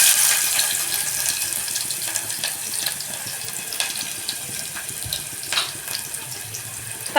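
Onions sizzling loudly as they hit hot oil with cumin seeds in a pan, a steady dense hiss with crackling pops throughout, no voices.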